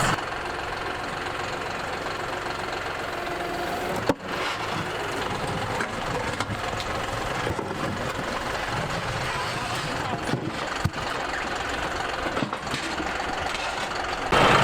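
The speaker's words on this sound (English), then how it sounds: "we're gonna get the tractor to pick up this old broken cement" A tractor engine idles steadily nearby, a continuous rumbling drone with occasional knocks, running unchanged for the whole stretch.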